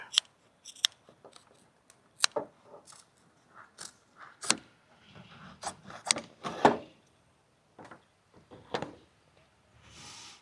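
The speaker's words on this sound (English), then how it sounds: "So what I do is I just cut a U shape." Scissors snipping a U shape into convertible top material during frame prep, a series of sharp, close cutting snips with quiet handling rustles between.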